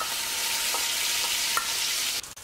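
Beef sizzles in hot oil in a wok for Szechuan-style dry-fried beef, a loud continuous bright hiss with a few light clinks and a short scrape at the end.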